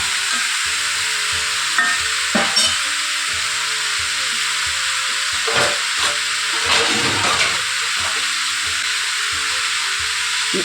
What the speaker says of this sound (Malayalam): നന്നായിട്ടൊന്ന് മിക്സ് ചെയ്ത് ഇളക്കി കൊടുത്തിട്ട് ഒന്ന് അടച്ച് വയ്ക്കുക